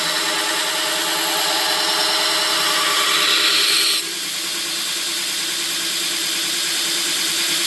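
A belt grinder fitted with a 40 grit belt grinds a knife bevel, a loud steady motor drone and abrasive hiss whose pitch drops as pressure changes midway.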